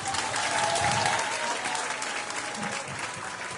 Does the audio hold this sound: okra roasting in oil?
no